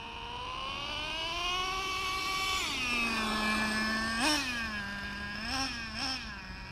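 A Traxxas Slayer Pro Nitro 4x4 RC truck's small nitro engine screams upward to high RPM in a rising whine, then holds near full throttle with several short blips and dips, loud and close with no talking.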